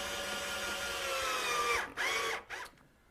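A power drill drives screws fastening a garage closet cabinet to its base, a close whirring that ends in two short bursts before stopping.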